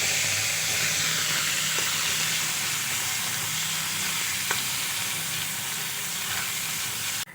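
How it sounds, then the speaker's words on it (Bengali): Chopped onions fry in oil in a pan, a steady close sizzle with crackling hiss that holds evenly throughout, one or two faint clicks of a utensil, and no talking. "পেঁয়াজগুলো কিছুক্ষণ ভেজে নেব।"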